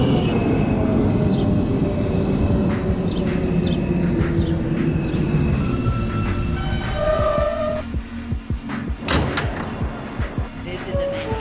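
A Manhattan-bound Q local subway train in the OpenBVE simulator rumbles and clatters along the track, a loud, continuous roar with rhythmic clicks, easing near the end into quieter knocks and squeals.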